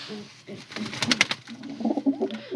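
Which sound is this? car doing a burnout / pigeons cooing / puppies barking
pigeons cooing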